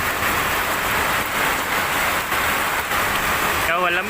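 Hail and big raindrops hammer a roof during a downpour in Pasay, a dense, continuous loud patter close overhead, with a voice briefly audible near the end.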